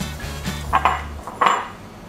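Metal utensils knock and clink against a pot and bowl as fried coconut milk curds are strained from coconut oil, a few sharp close clatters over a low hum.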